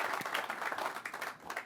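Brief burst of audience applause at a university indoor facility groundbreaking ceremony, scattered clapping at moderate distance.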